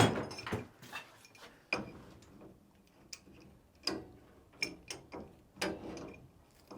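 Wrench or ratchet tightening a fitting on a main water valve during an 1884 house renovation: a run of sharp clicks and clacks, irregularly spaced and fairly close, with quiet gaps between bursts.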